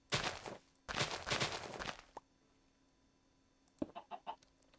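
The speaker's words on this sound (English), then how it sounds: "That was a freaking bird. I heard the bird's legs walking around." Chicken clucking in a Minecraft video game, two close bursts of clucks in quick succession, then a short pause and a softer cluster of clucks near the end, otherwise quiet.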